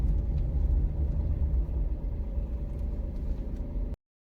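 Suzuki Alto 660cc manual car accelerating on the road, a steady close engine rumble that holds throughout and eases slightly partway, with no voices.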